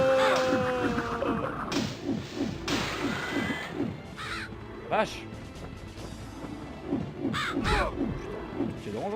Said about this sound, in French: Oh, les corbeaux aussi m'attaquent.